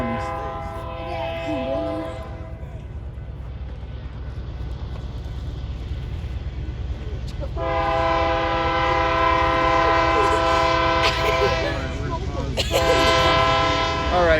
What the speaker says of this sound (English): hopefully the train's not too loud in the background